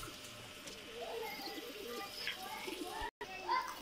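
Pakistani high-flyer teddy pigeons cooing softly in a loft, low repeated coos with a few faint chirps over a light background murmur.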